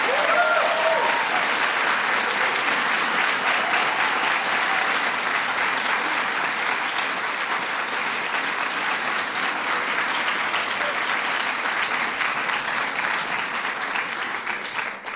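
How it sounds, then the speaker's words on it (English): A large audience at the 2016 Kennedy Center Honors applauds steadily, dense clapping that holds strong throughout and begins to thin slightly near the end. "Give her a big round of applause."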